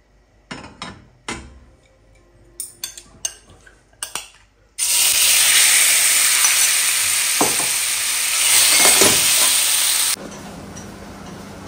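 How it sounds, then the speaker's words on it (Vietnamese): A spoonful of sugar hits a hot pan to make caramel for braised pork and eggs, setting off a loud steady sizzle that lasts about five seconds and then drops away, after a few light clinks and knocks beforehand. "cho một muỗng đường đi làm caramel"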